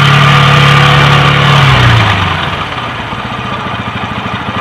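A Kawasaki LS 135 motorcycle engine idles high and loud at first from its auto-choke, then the revs drop and settle into a lower, steady putter close by.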